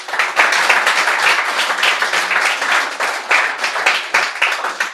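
Audience applause at a TRD Poetry stage event: dense, continuous clapping from a crowd, loud and close, holding steady for the whole stretch without any voices.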